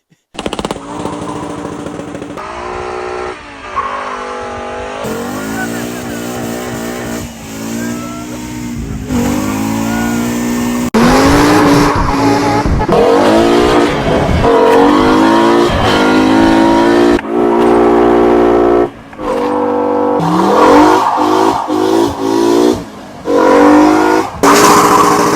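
A five-cylinder Mk2 Golf GTI engine revs hard at high RPM with repeated roaring 7,000 RPM launches, pitch sweeping up and down, near and continuous for the whole stretch.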